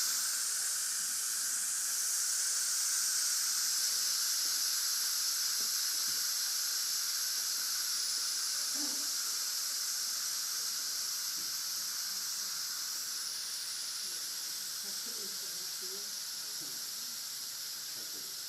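Steam hissing out of a Fagor 3-in-1 pressure cooker, a loud, continuous high-pitched jet that holds steady for the whole stretch and tapers only slightly toward the end, with no talking over it.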